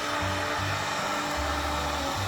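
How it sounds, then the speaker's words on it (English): Heat gun blowing steadily on vehicle trim during a rear trim cover install on a 2022 Suburban, a constant close airy roar with a low motor hum that shifts slightly, no talking. "The old heat gun out"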